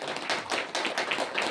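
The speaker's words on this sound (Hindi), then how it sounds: "आपका ताली के लिए भी धन्यवाद है।" Audience applause at a Hindi motivational talk on karma: a dense, steady patter of many hands clapping together, close and fairly loud, with no speech over it.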